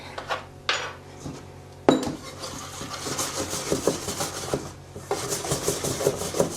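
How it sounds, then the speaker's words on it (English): Whisking soft flour in a bowl, with a metal whisk scraping and clinking against the sides in quick, rough strokes that start sparse and become a steady rhythmic rasp, close and clear with no talking. "now I'm gonna whisk it a bit"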